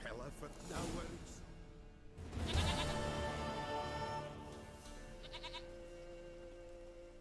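A goat bleats in a video game, its wavering cries mixed with game sounds and someone talking over them.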